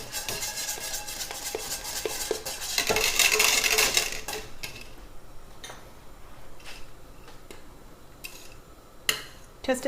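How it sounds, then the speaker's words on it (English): A whisk scrapes and clinks against a pot while a sauce of heavy cream is stirred, with a burst of brisk whisking early on followed by scattered light taps and knocks. "Keep stirring and whisking until this comes up to temperature and thickens."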